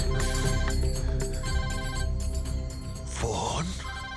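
A mobile phone ringtone plays loudly and continuously in a Bhojpuri film scene, a repeating melodic tone, with a brief voice near the end.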